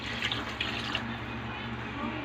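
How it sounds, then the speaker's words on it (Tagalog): Water runs in a steady stream into a cooking pot for chicken tinola, a continuous splashing pour at close range with a low kitchen hum underneath. "Lagyan natin yung tubig."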